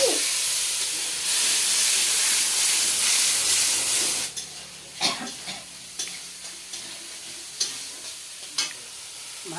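Hot oil hisses and roars loudly as water goes into a pan with dal, a dense steamy sizzle for about four seconds that then drops to softer bubbling with intermittent stirring clinks.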